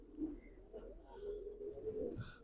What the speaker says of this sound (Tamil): இது வந்து பிளாக் கலர் ஃபேன்டைல் பிரதர்,